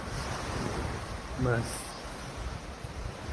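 Faint sea waves wash against the shore under steady wind noise, with a brief spoken word partway through.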